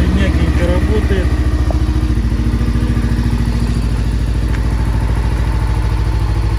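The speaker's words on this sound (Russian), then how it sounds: "Мотор отлично заводится, мягенько работает." A Honda CBR400RA motorcycle engine idles steadily up close, a smooth even putter with a low rhythmic thrum, while someone talks over it.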